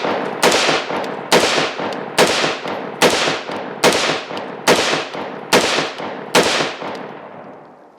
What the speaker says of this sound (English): we're going to be shooting some 55 grain full metal jacket